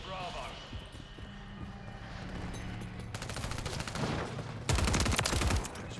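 Rapid automatic gunfire bursts in Modern Warfare 3 multiplayer, loud, fast-rattling volleys growing heavier toward the end, mixed with a player talking over the game sound.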